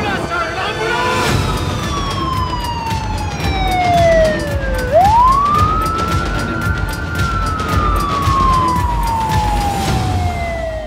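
An ambulance siren wails loudly nearby, its pitch sweeping slowly down and then back up in a long rising and falling tone, with voices speaking under it.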